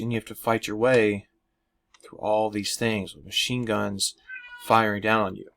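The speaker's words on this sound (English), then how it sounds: "That's my cat in the background, in case you can't tell." A pet cat meows in the background under a man's steady lecture-style talking, the cries mixed faintly into the pauses and overlapping his voice.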